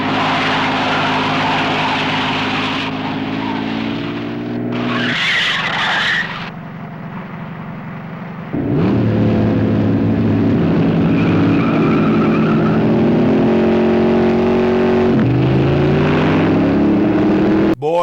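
Cars race along a mountain road in a chase, engines roaring and revving at changing pitches with tires squealing, loud and continuous across several passes, with a brief quieter stretch midway.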